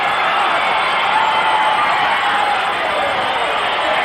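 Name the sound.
wrestling crowd cheering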